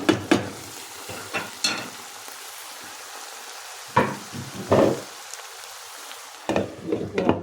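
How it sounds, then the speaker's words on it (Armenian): Ground beef and vermicelli frying in a pan, soft sizzling broken by several loud scraping stirs and clatters, with quieter gaps between them. "մի հատ լավ տապակվի"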